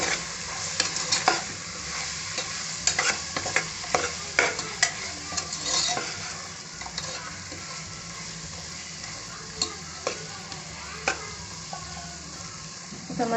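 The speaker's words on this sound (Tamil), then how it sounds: "இப்போ மசாலா எல்லாம் நல்லா வதங்கிடுச்சு." Biryani masala, coriander powder and garam masala frying in a pan for egg biryani, a soft steady sizzle broken by repeated scraping and clinking stirs, close and moderately quiet, no talking.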